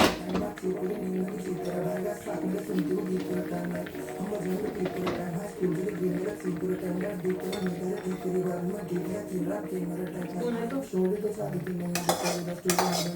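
A spoon and fork clink and scrape against a dish while Maggi noodles are mixed, a steady busy clatter of metal on dishware running throughout with a voice talking over it.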